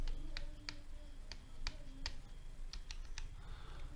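Laptop keyboard keys, including arrow and tab keys, are pressed in a sparse series of sharp, close clicks, about ten taps over a few seconds with no talking.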